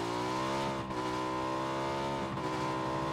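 A car engine in PUBG holds a loud, steady high rev with a rich harmonic drone, dipping briefly twice as the gears shift, close and alone without talk.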